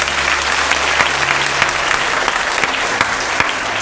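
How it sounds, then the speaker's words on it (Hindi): A church congregation claps loudly and steadily, a dense wash of many hands filling the space without pause, alone with no talk over it. "सारे लोग जोरदार ताली बजा दीजिए।"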